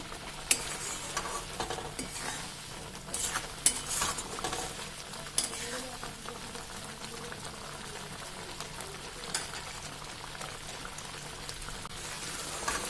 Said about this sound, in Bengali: পনির দিয়ে দিচ্ছি দইয়ের মধ্যে।